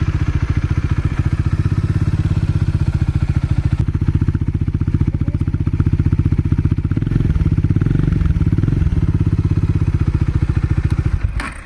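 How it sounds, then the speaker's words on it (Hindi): A Bajaj Dominar 400 BS6 motorcycle's exhaust thumps close by with a deep, rapid pulsing beat, rising as the throttle is blipped midway, then dropping back before cutting off at the end. "जैसे कि आपने सुना कि इसके एग्जॉस्ट नोट में कितना बेस और कितना पंची है"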